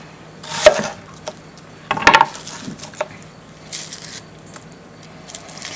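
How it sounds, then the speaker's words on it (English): A knife cuts through an onion into big quarter chunks on a board, giving a few sharp, close chopping knocks spread apart, with a crisp crunchy burst midway and softer taps between. "Now we're going to cut up this onion"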